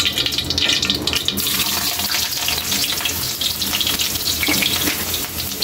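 Ginger sautéing in hot oil for beef papaitan, a steady broadband sizzle that holds loud and even throughout, no voices.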